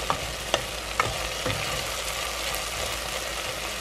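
Onions and garlic sautéing in a pan of oil for pork sinigang, a steady close sizzle with a few sharp clicks of a utensil early on, no voices.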